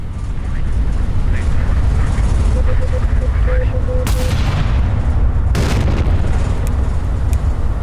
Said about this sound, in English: Oh, my guns are actually firing.